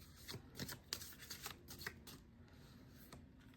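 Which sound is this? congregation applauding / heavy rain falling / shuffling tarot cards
shuffling tarot cards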